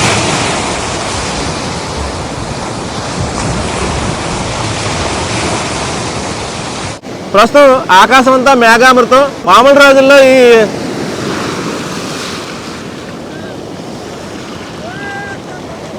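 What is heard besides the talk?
rough sea waves during Cyclone Fengal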